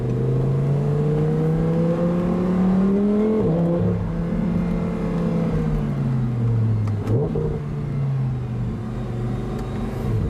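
A convertible car accelerates hard through an underpass with a loud, close engine note. The pitch rises, drops at a gear change, then climbs again, and no one speaks.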